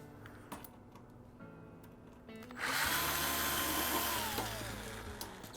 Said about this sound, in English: We're going to take the 2 screws that's holding the platform on the underside.